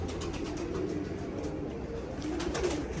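A female pigeon coos softly in repeated low, throaty pulses, close by against a steady background noise.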